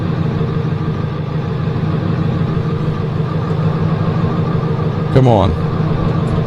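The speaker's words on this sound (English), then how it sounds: "Man, that truck's loud" A pickup truck idles and revs loudly in a farming video game, with a steady rumbling drone close up and a brief rising whine near the end. Someone speaks briefly over the engine.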